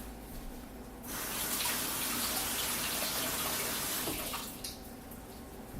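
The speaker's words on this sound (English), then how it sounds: "I'm going to walk over to the sink and just run it under the water really quickly." Tap water gushes into a sink for about three and a half seconds as a PVC bow is held under the stream. The flow starts and stops abruptly, loud and close, with quiet room tone on either side.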